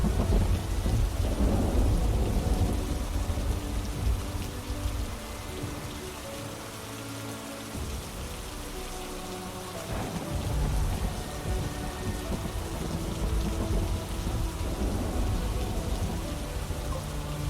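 Rain pours steadily in an Xbox murder mystery game while thunder rolls and rumbles low beneath it, the downpour holding a constant wash throughout.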